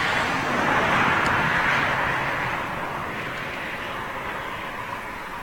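A Boeing Dreamliner jet at London Gatwick Airport rumbles as a steady broad roar from a distance, swelling slightly early on and then holding a constant heavy wash of engine noise.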